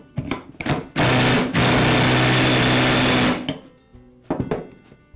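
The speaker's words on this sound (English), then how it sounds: "I'll thread it onto the spindle, and again I'm holding the armature with a rag, and I'll secure it with the impact." Impact driver tightening a drill chuck onto its spindle while the armature is held in a rag: several short rattling bursts, then a long loud continuous buzzing whir of about two seconds, followed by a few brief clicks and another short burst.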